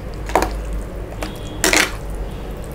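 A spoon scrapes and clinks against a pot while curd rice is mixed, two short metallic scraping strokes about a second apart over a steady background hum, with no talking.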